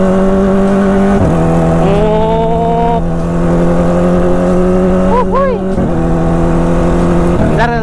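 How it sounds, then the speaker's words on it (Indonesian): A motorcycle engine, not yet warmed up and running slightly weak, drones loudly and steadily while being ridden, its pitch dipping and climbing again at a couple of shifts. "Ini belum panas motor gua, kayak agak ngempos-ngempos sedikit."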